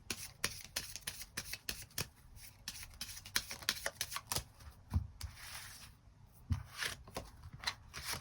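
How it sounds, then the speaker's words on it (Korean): Tarot cards being shuffled and drawn by hand, rapid riffling flutters and soft slaps in repeated bursts with short pauses, quiet and close, no talking. "그럼 4번 분들 추가 카드로 일별로 월요일부터 일요일까지 어떤 하루하루를 보내게 될지 추가 카드 뽑아보도록 하겠습니다."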